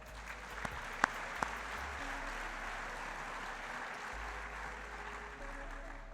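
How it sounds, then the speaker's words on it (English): A crowd at a high school sports awards ceremony applauds the Topeka High girls' softball team, a soft, distant, even clapping heard at low level with a few sharp knocks near the start. "Let's give a big round of applause for the girls' team of the year, Topeka High softball."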